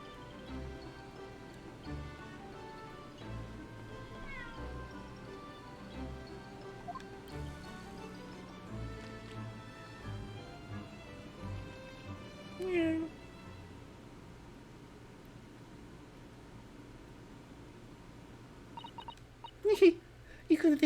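A cartoon cat meows in The Great Ace Attorney Chronicles, with a few short mews cutting through soft background game music and ticking, plus a louder burst of meowing near the end.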